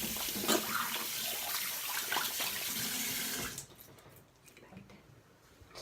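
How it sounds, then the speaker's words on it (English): A tap runs while hands are washed at a sink, a loud steady gush of water that cuts off partway, leaving faint drips and bathroom noise. "And you're going to need to wash your hands."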